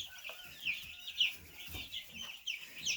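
Baby meat chicks chirp and peep in a brooder, a busy overlapping chorus of high, short calls with a few louder cheeps standing out close by.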